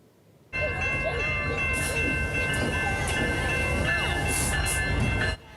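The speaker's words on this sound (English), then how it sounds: "the CP holiday train rolled through the junction this evening" The CP holiday train rolls through a junction in the evening, a steady, loud rumble of rail cars with squealing wheel tones and a faint horn, cutting in abruptly and holding for about five seconds.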